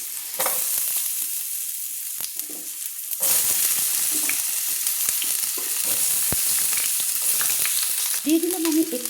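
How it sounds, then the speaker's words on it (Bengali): Long-cut potatoes fry in hot oil in a wok for a vegetarian drumstick-and-poppy-seed dish, giving a steady close sizzle with occasional stirring scrapes and a louder surge partway through. "তেলটা গরম হয়ে গেলে প্রথমে আমি আলুগুলো ভেজে নিচ্ছি।"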